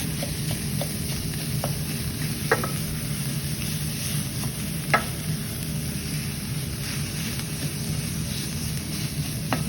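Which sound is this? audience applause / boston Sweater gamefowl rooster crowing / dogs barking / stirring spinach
stirring spinach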